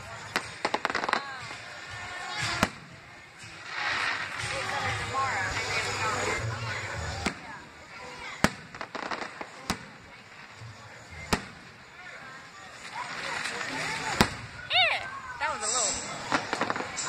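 Sharp, scattered pops and bangs from a fireworks show at Dollywood go off at irregular intervals, with people talking in the foreground throughout.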